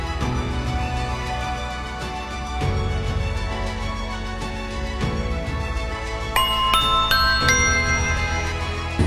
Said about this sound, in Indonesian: Setelah bel pulang,